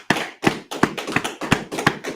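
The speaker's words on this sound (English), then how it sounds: "Get a sister hand clap." Hand claps ring out during a Sabbath church service, about seven sharp, evenly spaced claps in a steady rhythm, close and fairly loud, with no talk over them.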